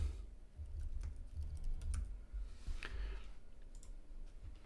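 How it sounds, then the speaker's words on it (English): Computer keyboard being typed on in a terminal at a desk, soft rapid key clicks in short bursts, close but quiet over a low hum, with no talking. "So I'm going to type in terminal."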